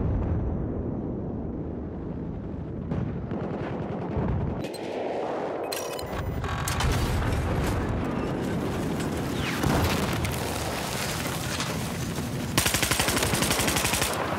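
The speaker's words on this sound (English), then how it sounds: "I hate when people shoot me with RPG at such close distance." Shooter video game combat with rapid machine-gun bursts and booming RPG explosions, loud and continuous throughout with shifting intensity and no talking.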